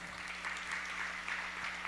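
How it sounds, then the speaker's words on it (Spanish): A church congregation claps hands in praise during a worship service, with soft, steady and rather distant clapping over a low electrical hum. "Vamos a darle palmas de alabanza a Jesucristo en esta hora"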